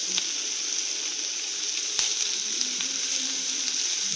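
Curry leaves sizzle in hot oil in a pan for a cabbage poriyal, making a steady, close, hissing crackle with a few faint pops and light stirring taps, and no voices.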